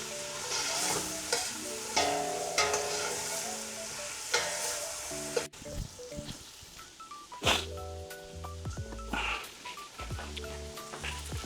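Tomatoes sautéing in a pan for Filipino ginisang upo with chicken, a steady close sizzle with intermittent stirring scrapes and clatter, moderately loud throughout, with a tonal musical background underneath.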